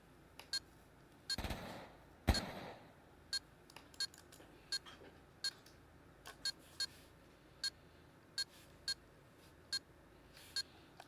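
A planted bomb in the VR shooter Pavlov beeps steadily, sharp short electronic chirps repeating roughly every half second to second, with a brief burst of louder noise near the start and no talk.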